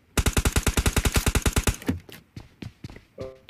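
Rapid automatic gunfire from the game PUBG, a fast, even burst of about twenty loud shots, followed by scattered, fainter single shots and thuds.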